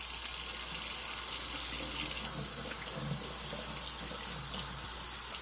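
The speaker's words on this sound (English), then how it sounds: "first thing you're gonna want to do is make sure you wash your hands" Steady running water from a kitchen tap as hands are washed under it, a constant close hiss with faint splashing and rubbing throughout, no talk.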